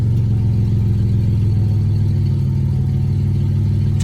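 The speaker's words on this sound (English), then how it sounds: "That's a good running car." A car engine runs loud and close with a deep steady rumble, its throbbing low exhaust note pulsing evenly as it holds a raised idle, with no voices over it.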